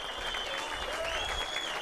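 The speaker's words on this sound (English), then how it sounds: "And a round of applause from the crowd here." A crowd applauding at a darts Players Championship match in Salt Lake City, Utah, with steady dense clapping and faint crowd noise throughout.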